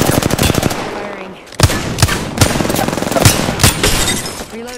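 Automatic weapon fire from the video game Apex Legends, with rapid bursts of gunshots sounding close and loud, punctuated by sharp individual cracks over a busy battle background.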